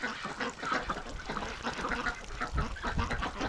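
A flock of female ducks quacks loudly and continuously on a breeding farm in early spring, a dense, overlapping chorus of honking calls close by.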